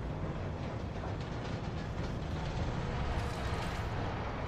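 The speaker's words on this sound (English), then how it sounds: "That train should take you at least halfway up the tower" A train ride in Call of Duty MWIII Zombies gives a continuous loud rumbling rattle of rail cars with clickety-clack rhythm and a dense noisy roar throughout, with no talking.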